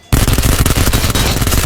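Rapid gunfire in the mobile shooter Peacekeeper Elite's Metro Royale mode, loud and close, with dense sustained bursts that start abruptly and fill the whole span without pause.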